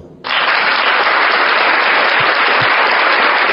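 Loud, sudden burst of applause from a church congregation, beginning abruptly and continuing as dense steady clapping close to the microphone.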